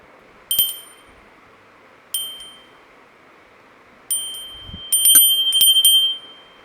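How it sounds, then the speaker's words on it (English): A small bell hangs from a bright yellow ribbon and tinkles as the wearer shakes its head, giving a few light, bright dings spaced apart, then a quicker cluster of jingles near the end, over a steady low hiss. "The bell tinkles every time Appaka shakes his head"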